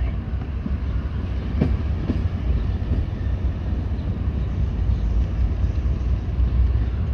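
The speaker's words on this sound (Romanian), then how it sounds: "A, pleacă și tramvaiul." A tram pulls away near a railway station in Arad, its low rolling rumble and wheel clatter steady and fairly close, with a couple of faint metallic clicks early on.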